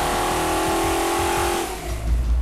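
A Mondello-built 455 Oldsmobile big-block V8 roars loudly on a dyno, holding a steady high-rpm pull before the revs drop off and the engine burbles down.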